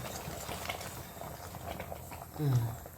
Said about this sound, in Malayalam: ചെറു തീയിലിരുന്ന് ഈ കഷ്ണങ്ങളൊക്കെ വേവുന്ന വരെ നമുക്കൊന്ന് കാത്തിരിക്കാം